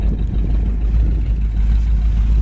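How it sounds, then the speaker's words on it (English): A 1959 Ford retractable with dual exhaust runs at idle, giving a loud, deep, steady engine rumble close by with no talking over it. "Dual exhaust sounds good."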